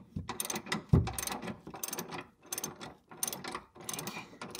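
A ratchet fitted with an 18 mm socket clicks in rapid repeated bursts close by while removing a bolt on a C5 Corvette during torque tube removal, with no speech.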